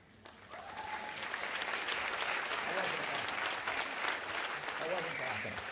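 Audience applause fills a Williston commencement ceremony in 2013 as inductees come forward: dense, steady clapping from a large crowd with some voices mixed in, holding strong throughout.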